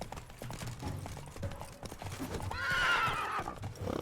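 Geralt's horse Roach in Witcher 3 gives a loud, shrill whinny midway, following steady clip-clop hoofbeats and game noise.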